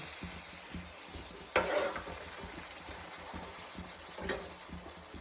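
Fenugreek leaves stirred into spice masala frying in a pan, giving a steady low sizzle with soft scraping stirs and a couple of brief louder clatters, no voices.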